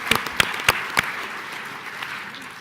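Applause from a tourism conference audience, with several sharp, distinct claps at the start before settling into a softer, sustained patter of many hands.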